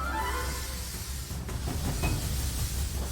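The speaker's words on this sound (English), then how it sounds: "This is the Pelion steam train, known affectionately as Smudgy." The Pelion steam train in Greece, nicknamed Smudgy, sounds close and loud as a steady hiss of steam over a deep mechanical rumble, with faint rail clatter running through it.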